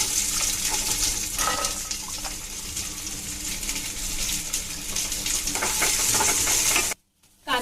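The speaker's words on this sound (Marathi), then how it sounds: "मी इथे 2 मोठे कांदे घेतलेले आहेत बारीक चिरून, 5 ते 6 लसूण पाकळी आणि 1 इंच आल्याचा तुकडा घेतलाय. तर ते आता त्याच्यामध्ये भाजून घेते" Chopped onions, garlic and ginger sizzle and fry steadily in a pan, with occasional stirring clatter; the hiss stays continuous and fairly loud before cutting off abruptly near the end.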